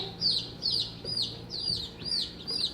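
Shrill, repeated peeps from Buckeye chicks close by, coming in regular bursts about every half second over a faint low hum.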